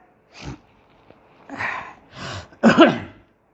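A man clears his throat and coughs in four separate close bursts, the last one the loudest, with short silences between them.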